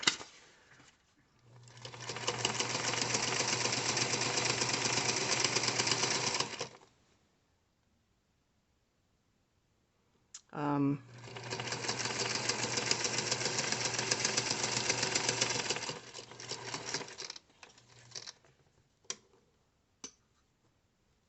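A sewing machine stitches fabric for a crossbody purse, running in two sustained bursts of several seconds each with a short pause between, followed by a few brief clicks and taps near the end.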